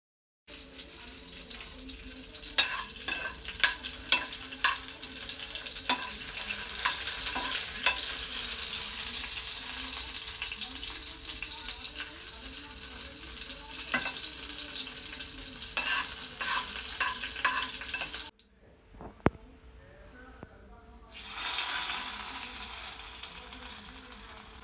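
Mustard seeds, curry leaves and dried red chillies sizzle in hot oil for a tempering for Kerala mango pulissery, a steady close frying hiss dotted with sharp popping crackles, briefly dropping away near the end before resuming.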